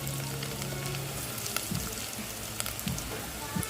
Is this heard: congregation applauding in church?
no